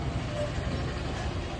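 Rumbling, steady noise of a train pulling into a railway station on a trip to Manali, a continuous low roar heard close by for a brief moment.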